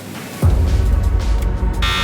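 Quiz timer completion buzzer in a general knowledge quiz, a sudden loud electronic buzz that bursts in and holds steadily for about a second and a half, shifting to a brighter tone at the end, with no speech.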